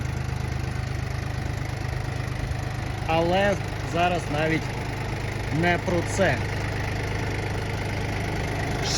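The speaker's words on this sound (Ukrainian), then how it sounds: "Ще один 20-сильний трактор." A Yanmar F20 20-horsepower tractor engine idles steadily with a low, even drone throughout while someone speaks over it for a few seconds.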